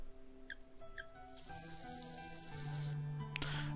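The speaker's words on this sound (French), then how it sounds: "J'ouvris le robinet et de l'eau en coula, assez froide pour me glacer sur place." Water runs from a garden tap in the visual novel Narcissu, a steady hissing stream that begins partway through and keeps going, with soft clinks and chimes of game music before and around it.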